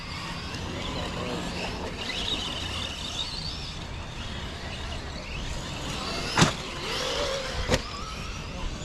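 Traxxas Maxx RC monster trucks racing on a track against Arrma Granite trucks, a continuous whining motor drone throughout with two sharp brief transients near the end, no talking.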